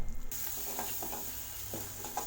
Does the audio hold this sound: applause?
no